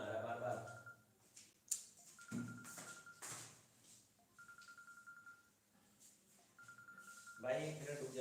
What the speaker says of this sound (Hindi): भाई फोन आ रहा है बार बार।